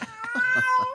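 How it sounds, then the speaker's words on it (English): A cat in heat meows and yowls in a quick series of loud, wavering cries, close and clear with no talking. "they don't like the cats in heat sounds?"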